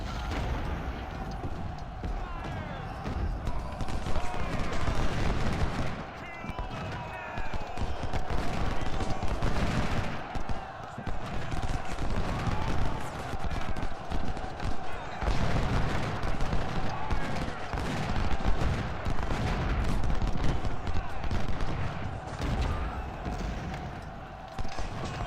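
Musket fire from skirmishers in the Civil War strategy game Ultimate General, dense continuous crackling volleys and booming shots layered over battle ambience, loud and unbroken throughout.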